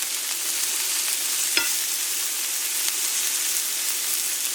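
Chicken pieces sizzle in a hot pan while browning, a steady loud frying hiss throughout with a single utensil scrape or stir near the start and no speech.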